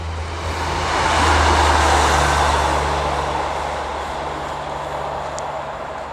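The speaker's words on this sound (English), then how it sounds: "Excuse the train" Train passing close by, a broad, heavy rumble that swells over the first couple of seconds and then slowly fades while staying steady and loud.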